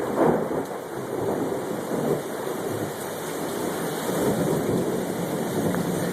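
Heavy rain pours steadily during a tropical storm thunderstorm in Greensboro, with low rumbling thunder rolling beneath a constant wet roar, no voices present.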